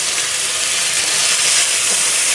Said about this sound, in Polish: Mięso należy przysmażyć.